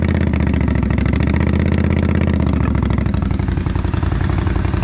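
A Polaris Scrambler 1000 ATV engine runs loud and close, a throbbing rapid pulse that holds at a raised rev then eases lower toward idle, with mechanical clatter and no talking.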